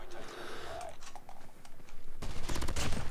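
Type 25 rifle fire in the mobile shooter COD Mobile: faint, scattered clicks at first, then a loud run of rapid shots near the end.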